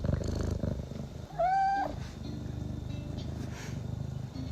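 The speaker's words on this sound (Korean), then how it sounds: "너왜 계속 구르렁거려?" A low, continuous rumbling purr runs throughout, close up, with a brief high meow-like cry breaking in near the start.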